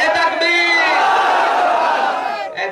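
A large crowd at an outdoor Islamic religious gathering (waz mahfil) roars the takbir response in unison, one loud sustained chant of many voices rising and fading over a couple of seconds.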